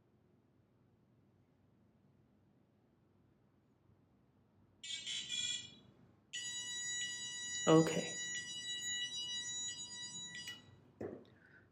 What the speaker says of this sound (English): The beeping just indicates that the battery is not connected.